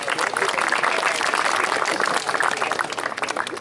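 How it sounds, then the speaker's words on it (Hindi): Dense, steady applause from an audience at a farewell ceremony gathering, loud and close, with many hands clapping continuously and no pauses. "भरपूर तालियां जी"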